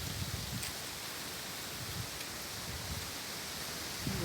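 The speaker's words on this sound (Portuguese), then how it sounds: "O vento está forte, deve estar muito forte lá em cima, porque está forte aqui na terra, né?" Strong wind blowing outdoors in the rural countryside, a steady broadband roar that holds at an even level for the whole stretch with no voices over it.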